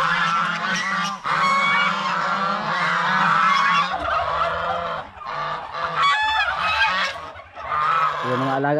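Farmyard geese honking loudly and repeatedly at close range, harsh calls overlapping in bursts with brief gaps.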